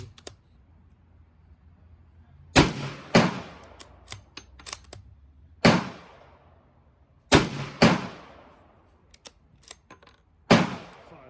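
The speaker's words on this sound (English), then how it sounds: "Rounds, 357 Magnum Unsuppressed." A Ruger 77/357 bolt-action rifle firing unsuppressed .357 Magnum rounds outdoors: about eight sharp, loud cracks, irregularly spaced, some in quick pairs, each trailing a short decaying echo, with quieter clicks of the action in between.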